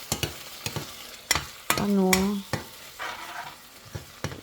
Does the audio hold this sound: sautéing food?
yes